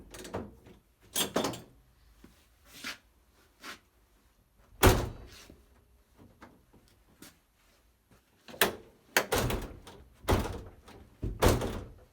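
A Lancia Integrale door being shut after back panel repair, with the catch and rubber seal newly fitted, gives several solid thunks at uneven intervals. Each slam is close and distinct, with quiet gaps between and no talking.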